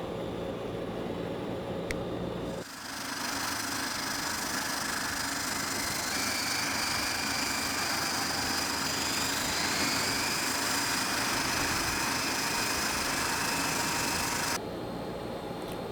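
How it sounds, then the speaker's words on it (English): Starboard turboprop engine of a Hawker HS748 airliner in the Prepar3D flight simulator spooling up after a steady idle hum, rising into a loud, sustained whine with climbing tones, then dropping back abruptly near the end. "we'll start up the starboard side engine now."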